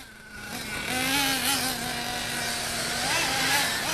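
A 1/8 scale RC buggy at a River Rat race meeting accelerates down the back straightaway, a rising high-pitched whining motor buzz that holds steady and loud for several seconds, with no talk.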